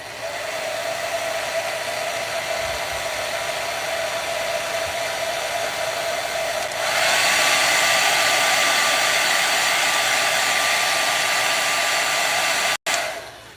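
A hair dryer blows on wet paint, a steady loud whooshing whir that jumps to a stronger, higher setting partway through and then cuts off briefly near the end, close by, with no talk.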